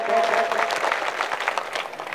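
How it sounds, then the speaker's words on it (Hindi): Audience applause at a Hindi-Urdu poetry recital, a dense, steady burst of many hands clapping that continues loudly throughout with no talk over it. "मुझे एक बार जोरदार ताली बजा करके उस नज्म के लिए माहौल दें।"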